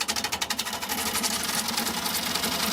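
A 7/8 gouge cuts punky pine spinning on a wood lathe, a steady loud whirring rasp that opens with rapid rhythmic pulses from the tool chattering against the soft wood, then settles into a continuous close hiss.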